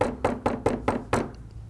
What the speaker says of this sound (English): And Peter knocked on the door.